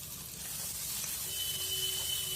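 Boiled pork stir-frying with ginger-garlic paste and onion in a pan gives off a soft, steady sizzle and hiss that holds at an even low level throughout, with no voices.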